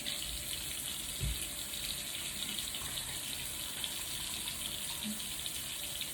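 Tap water runs steadily into a sink while a towel is wetted, a soft continuous hiss with a few faint splashes and bumps.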